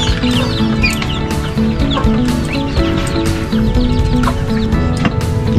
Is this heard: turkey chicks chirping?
yes